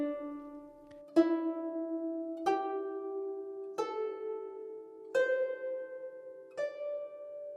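A Chinese zheng plucked through a D E G A C pentatonic tuning, six separate notes spaced evenly, each with a crisp twang and long ringing tail, heard solo with no talking.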